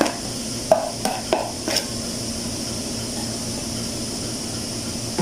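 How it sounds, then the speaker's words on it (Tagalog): Carrots and spices being stirred into a cauliflower mixture in a pan, with a few sharp utensil knocks against the pan early on over a steady low hiss, then continuing quietly. No one speaks. "I-mix lang natin siya lahat."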